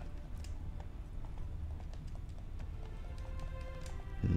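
Horse hooves clip-clop steadily in The Witcher 3: Wild Hunt, a quiet, even rhythm of hoofbeats behind faint game ambience, growing louder right at the end.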